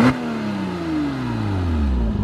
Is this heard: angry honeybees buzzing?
no